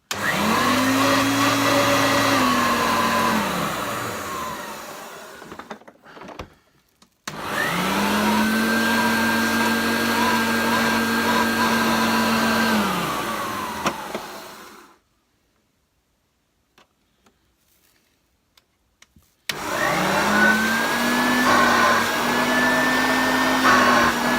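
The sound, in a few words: Hoover Turbopower UB088 vacuum cleaner running during test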